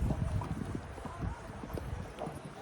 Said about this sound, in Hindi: मतलब घोड़ा आगे चला गया